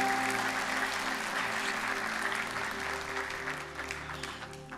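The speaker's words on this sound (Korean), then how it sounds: "큰 박수로 축복해 주십시오." A church congregation at a Sunday service applauds a blessing after prayer, steady dense clapping throughout with a sustained organ or keyboard tone underneath, slowly tapering near the end.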